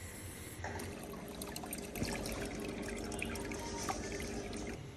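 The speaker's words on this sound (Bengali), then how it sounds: "সরিষাগুলো আমি ভালো করে ধুয়ে রেডি করে নিচ্ছি" Mustard seeds being washed in water, a faint close trickle and swish of water with small drips and light handling noises throughout.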